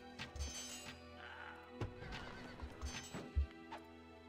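Horses in a medieval strategy video game match, with a clear whinny near the start and repeated thudding hoof clip-clops and impacts across a few seconds, moderately quiet and without talk.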